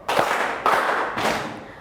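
A classroom group does ice-breaker body percussion, clapping and slapping their thighs together in three evenly spaced, loud, smeared group hits, each ringing briefly in the room.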